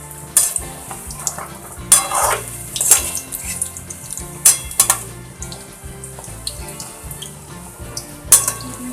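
Semolina gulab jamun balls fry in hot oil in a wok with a continuous close sizzle, punctuated by repeated sharp metallic scrapes and clinks of a spatula against the wok.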